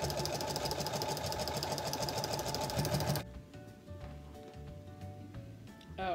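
A sewing machine fitted with a walking foot runs steadily and loudly through quilt fabric for about three seconds, then stops, leaving quieter handling noises and faint mechanical clicks.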